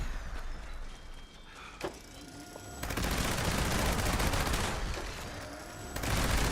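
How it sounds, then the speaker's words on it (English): A Gauss minigun with a faster fire rate roars in Fallout 76, loud continuous rapid bursts broken by a brief pause, then resuming as sustained, dense automatic fire. "This is like a vampire's faster fire rate Gauss minigun."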